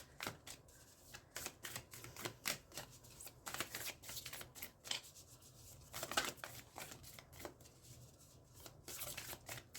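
Tarot cards shuffled loosely and unevenly, a steady run of soft riffling, rubbing and slapping bursts that carries on for about ten seconds, close and fairly quiet, with no talking.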